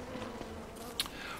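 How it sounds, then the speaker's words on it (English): Killer bees in the video game Don't Starve give off a soft, close, continuous insect buzz, with a single brief sharp click near the end. "Oh, killer bees."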